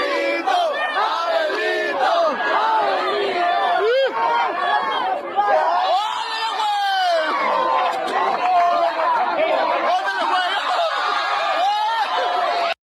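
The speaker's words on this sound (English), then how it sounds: "Crowd's going crazy." A wrestling crowd roars and cheers wildly for the luchador Bandito, a dense, loud wall of yelling voices that holds for the whole stretch with surging shouts.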